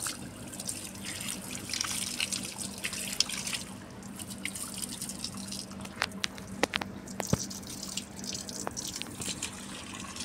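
Water trickles and splashes while potted plants are washed, a soft continuous run broken by several sharp drips and taps, close and fairly quiet, with no talking.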